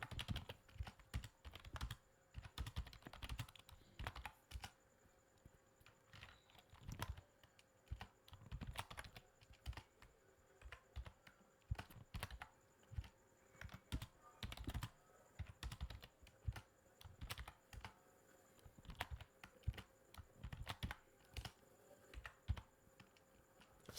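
Java code being typed on a computer keyboard: faint, irregular clicking keystrokes in uneven bursts and pauses, continuing steadily with no one speaking.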